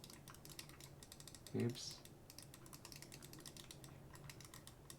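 Typing on a CharaChorder Master Forge chording keyboard, a quiet steady patter of small clicks throughout, with a brief louder knock partway through and a person speaking briefly.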